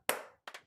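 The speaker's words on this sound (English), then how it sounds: "Give it up for Mike. Claps around." Audience applause for field manager Mike at a ComedySportz improv comedy match in Milwaukee: a sharp burst of clapping that fades, then a few scattered follow-up claps from a small crowd, with no talking.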